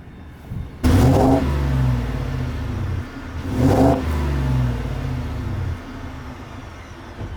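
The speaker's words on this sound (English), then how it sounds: "let you guys listen to the exhaust a little bit so you guys can hear the rumble a little bit" A 2021 Ford F250 V8 exhaust revs twice to about 3,000 RPM from idle, giving a deep, throaty rumble that swells loudly near the mic and falls back to a steady idle between blips.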